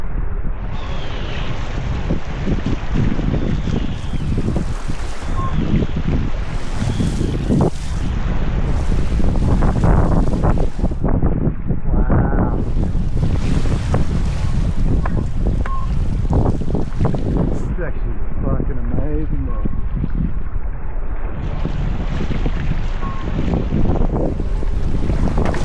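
Wind buffeting and rushing water from waves and clean bumps while sea kayaking a committing run along the Scottish coast, loud and continuous throughout with steady wind noise on the microphone.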